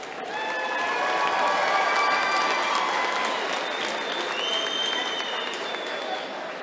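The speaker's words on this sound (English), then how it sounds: "please give a round of applause for our graduates that have earned a Bachelor's of Science in Applied Science in Criminal Justice" Sustained applause fills a commencement hall as criminal justice graduates earning Bachelor of Science degrees are honored, a dense, even wash of clapping with a few high whistles or cheers riding on top throughout.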